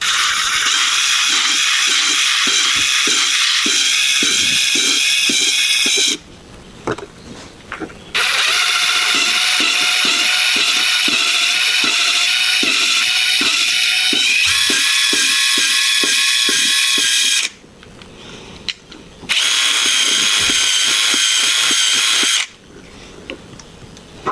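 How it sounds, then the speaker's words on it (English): An impact driver whirs loudly in long bursts with a rapid rattling hammer, spinning a valve in an AMC 304 cylinder head from a 1976 Jeep CJ-5, stopping three times for brief pauses before starting again. "just spin it with a drill, or in this case, impact driver"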